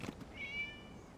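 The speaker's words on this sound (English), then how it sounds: "It was just a cat." A single short cat meow rises faintly above a quiet background in the video game Genshin Impact.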